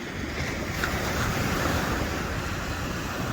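A Stena Line ferry passes on the River Mersey on a winter night, heard as a steady, broad rush of waves and wind noise that holds evenly for the whole few seconds, with no voices.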